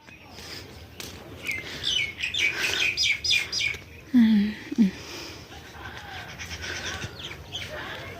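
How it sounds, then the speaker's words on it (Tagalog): Several birds chirp and trill in quick bursts, fairly close, over a low outdoor rumble in a vegetable garden, with a couple of deeper animal-like calls midway. "Tunog ng mga ibon."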